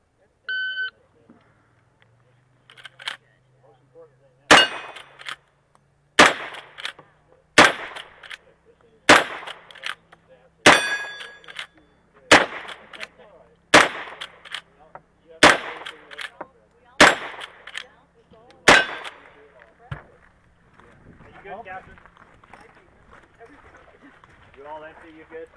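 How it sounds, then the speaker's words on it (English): A shooting stage opens with a start beep, then about a dozen loud, sharp gunshots ring out at roughly steady intervals, each cracking close and decaying quickly, followed by quieter shuffling. "You're shooting high."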